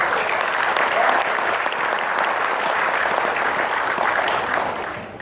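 Sustained, dense applause from a large audience fills a meeting hall, steady and loud throughout before easing slightly at the very end.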